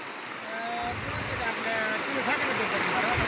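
Clear stream water flows into a deep pool beside a village, a steady close rushing wash that runs the whole time, with faint tonal chirps or voices now and then.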